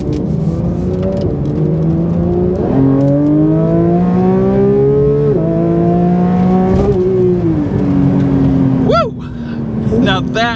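A Porsche 911 GT3's naturally aspirated engine revs up through several rising pulls with gear changes between them, heard loud and close from inside the car, with a voice speaking briefly near the end.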